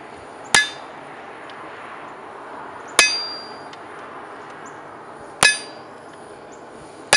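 Knife steel for a skinning knife is cut on a cutting plate over an anvil with three evenly spaced, sharp ringing hammer blows about two and a half seconds apart. Each strike rings out clearly and then fades over a quiet background.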